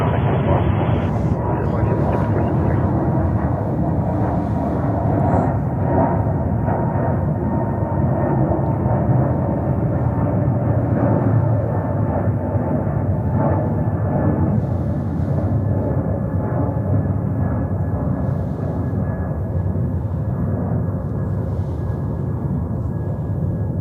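An Emirates Airbus A380 jet at JFK airport in New York gives a loud, steady roar that holds for the whole stretch, with voices talking over it.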